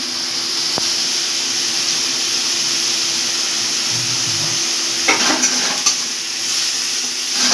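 Grated chopped onion sizzles steadily in a hot pan for prawn-stuffed potol dolma, a continuous close frying hiss with a few clinks of a spoon against the pan near the end.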